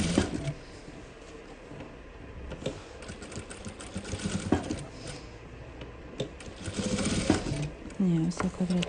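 A sewing machine stitches fabric squares corner to corner for a Kazakh patchwork quilt, a steady mechanical whir with clicks and taps that runs through the whole stretch alongside some talk nearby.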